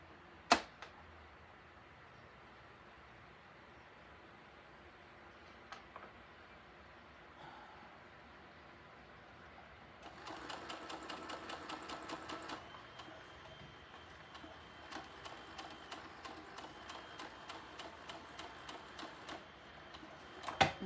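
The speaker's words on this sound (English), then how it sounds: "You get to the end, turn it again, and sew the bottom." A domestic sewing machine stitches across the bottom edge of a quilted fabric cow head. It runs in short, rapid ticking bursts with brief pauses between them, close and fairly quiet, and nobody speaks.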